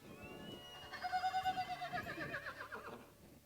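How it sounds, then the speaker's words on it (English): A young horse at a colt starting competition lets out a long, quavering whinny with a rapid rhythmic pulsing, fairly close and standing alone without talk. "how mine has the worst neigh out of all of them"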